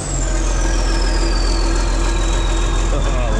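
A cold bulldozer engine turns over and settles into a steady, heavy diesel idle, loud and close throughout, with a faint whine riding above the rumble.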